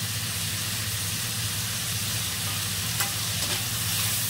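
Tomato, onion and tamarind sautéing in a pan for manathakkali kai puli kulambu, a dense, steady hiss of frying, loud and continuous.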